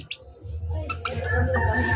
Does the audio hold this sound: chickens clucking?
yes